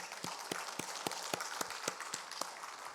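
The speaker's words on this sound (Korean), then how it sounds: "우리 그 하나님께 우리 박수 영광 돌리시기 바랍니다" Congregation clapping at a Korean prayer service at a fasting prayer retreat: a steady, rhythmic unison beat of hand claps, roughly four per second, over a dense, moderately loud wash of crowd applause.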